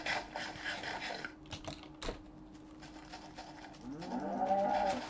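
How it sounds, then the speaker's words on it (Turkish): A cow in a video game gives a single drawn-out moo near the end, heard after a stretch of quiet clicking and game noise, with no speech. "Gel buraya inek."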